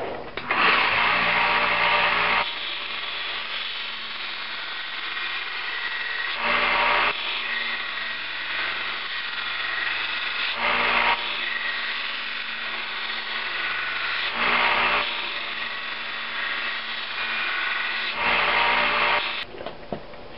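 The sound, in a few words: 1x30 belt sander grinding a knife blade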